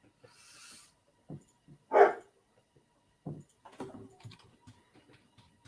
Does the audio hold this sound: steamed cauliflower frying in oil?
no